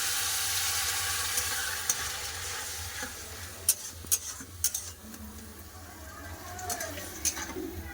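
Papaya pieces with turmeric being stir-fried in a pan give a continuous sizzle broken by several sharp spatula clacks against the metal, with faint talk in the background.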